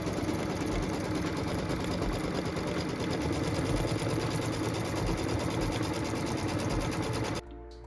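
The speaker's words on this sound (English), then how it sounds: "it's time to stitch the piecing template" A sewing machine stitches a quilt block piecing template with a steady, close, rapid whirring hum. It runs without a break and cuts off shortly before the end.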